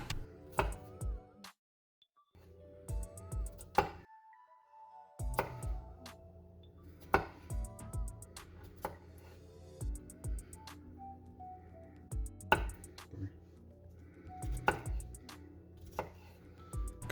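A knife chops a garlic clove finely on a board in bursts of quick, crisp, close taps, with short pauses between runs and occasional faint clinks, and no talking.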